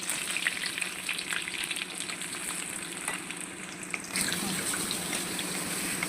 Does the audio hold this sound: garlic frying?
yes